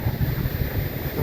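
Strong wind blows across an outdoor work site, a steady loud rush with low buffeting thumps against the microphone.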